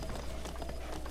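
Horse hooves clip-clopping in Breath of the Wild, a quick run of rhythmic thuds heard up close for about a second with no talking over it.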